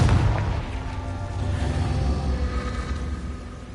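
Confringo fire spell bursting in Hogwarts Legacy, a single loud blast at the start that trails off into a rolling, steady rumble lasting a few seconds.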